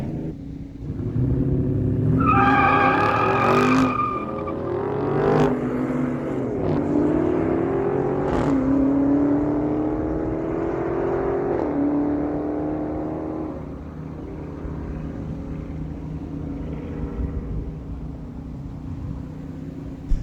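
A Dodge Charger and a Ford F-150 drag race side by side at a no-prep dragway, engines roaring and revving as they accelerate, the sound sweeping up in pitch and fading as the two vehicles pull away into the distance.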